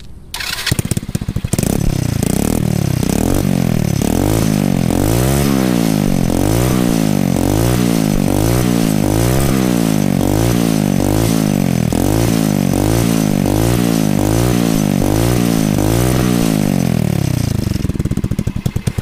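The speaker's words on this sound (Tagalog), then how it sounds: "Ngayon testingin naman natin yung may silencer." A motorcycle engine fitted with a Real Carbon SC exhaust pipe and silencer starts and idles loudly with a steady, rhythmic pulsing revs, muffled but still strong, running alone for the whole stretch.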